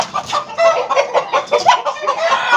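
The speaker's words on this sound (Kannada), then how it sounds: "ಇವು ಸಿಲ್ಕಿ ಬರ್ಡ್ ಹೇಳ್ತಾರೆ." Silkie chickens, a rare breed, cluck in a steady run of short calls, close and fairly loud, with overlapping birds and no talk.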